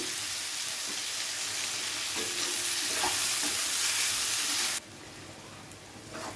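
Onions fry with a pinch of salt in a pan until golden, making a loud, steady sizzle with occasional stirring scrapes that drops suddenly to a quieter hiss near the end; no voices.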